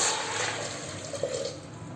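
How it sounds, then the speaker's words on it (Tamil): Measured water, five tumblers, poured into a pot of rice and dal for Tamil arisi paruppu sadam, a steady close rushing splash lasting the whole two seconds. "நான் 5 டம்ளர் தண்ணி மெஷர் பண்ணி வச்சுருக்கேன். அது ஊற்றிக்கலாம்."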